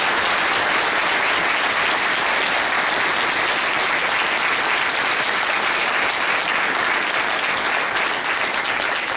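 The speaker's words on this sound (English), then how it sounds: "let's give them a round of applause." An audience at a police awards night claps in sustained, dense applause, loud and even throughout with no pauses.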